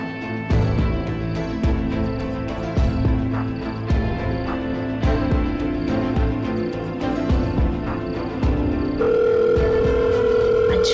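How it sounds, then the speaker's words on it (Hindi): A telephone rings repeatedly with no answer. The ring bursts come at regular intervals through a busy indoor scene, with background music and movement around them, and the tone changes near the end. "हम फोन करके पूछते हैं।"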